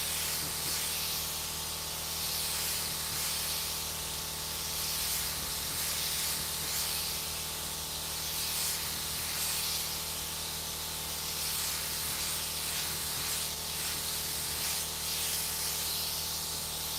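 A spray gun lays candy red paint over chrome metalflake in a continuous, even hiss that holds steady at close range with only slight pulsing as passes overlap.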